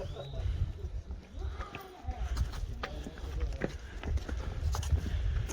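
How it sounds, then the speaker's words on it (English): A donkey's hooves clop down a stone path at Petra in Jordan, an irregular series of sharp knocks close by, mixed with outdoor wind noise and voices talking nearby. "and then coming down is a donkey"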